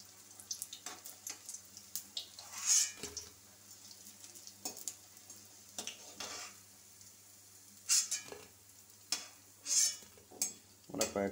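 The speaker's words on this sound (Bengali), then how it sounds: "কয়েকটা শুকনো লঙ্কা ভেজে নিচ্ছি" Dried red chillies fry in hot oil in a home kitchen, giving a soft steady sizzle. Scattered stirring scrapes and metal clinks of a utensil against the pan come and go, and a few sharper clatters stand out.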